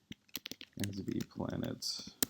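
Computer keyboard typing, a quick run of light clicks and taps mixed with a person talking over it, fairly close.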